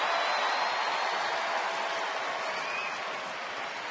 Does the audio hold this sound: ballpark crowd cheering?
yes